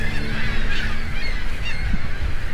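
Seagulls call loudly and continuously nearby at a tourist attraction, a dense chorus of harsh, honking cries layered over a steady rumbling background.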